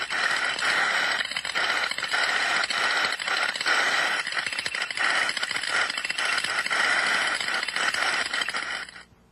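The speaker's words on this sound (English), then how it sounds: "Sometimes the IB trap may experience continuous modulating or dribbling, especially with light loads. This may sound like a continuous flow" An inverted bucket steam trap dribbles under light load, its main orifice valve opening and closing very rapidly to give a dense, continuous rattling hiss that fades away at the end.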